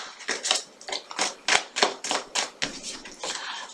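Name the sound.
tarot cards being shuffled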